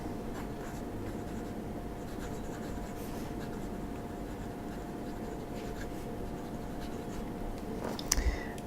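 A Conklin fountain pen with a broad nib writing in a notebook, quiet continuous scratching strokes close up, ending in a couple of small taps.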